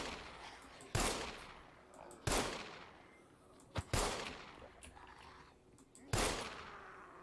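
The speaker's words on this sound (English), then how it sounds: "That's 5 shots fired." Gunfire in a zombie video game: five sharp, loud shots spaced irregularly a second or so apart, each with a quick burst and decaying tail over faint background.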